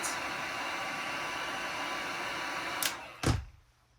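A heat gun blows steadily while warming a graphics wrap on a Pro Boat React RC boat, a constant airy broadband whoosh that runs close and even, then switches off with a short thump and trailing clatter near the end.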